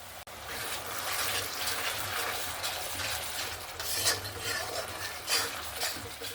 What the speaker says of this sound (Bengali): সামান্য পরিমাণ জল দিয়ে দিয়ে আমি মশলাটা কষাতে থাকব।